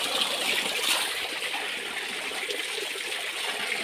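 Steady rushing water flows continuously from a tap with a bright, hissing texture, close by and fairly loud, with no voices.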